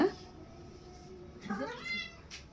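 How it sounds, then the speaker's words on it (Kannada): A cat gives a short, rising meow close by, following a brief cry at the start, over a faint room hum. "ಬೆಕ್ಕಿನ ಧ್ವನಿ ಕೇಳ್ತಿ"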